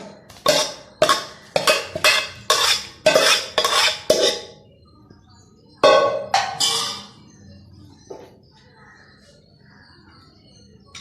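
A spoon scrapes rhythmically through sautéed radish in a pan, with about eight quick, loud strokes, then a pause and a few more scrapes, ending in quieter background.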